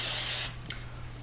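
Hairspray from an aerosol can spritzed onto a quilt for basting: one close hissing burst lasting about half a second, then quiet with faint handling rustle.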